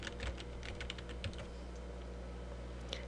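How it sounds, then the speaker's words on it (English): Fingers type a file name on a computer keyboard, a quick run of soft, close clicks in the first second and a half, then quieter with a lone keystroke near the end. "type in the file name"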